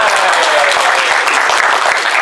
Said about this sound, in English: Thank you, round of applause.